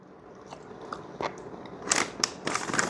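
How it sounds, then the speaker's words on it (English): French fries being eaten up close, a few soft bites and chewing crunches growing louder toward the end, with no talking. "as I'm eating some French fries"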